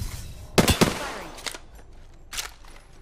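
Bursts of rapid gunfire in an online shooter match, a loud cluster of shots followed by a couple of shorter volleys, with faint game ambience between them.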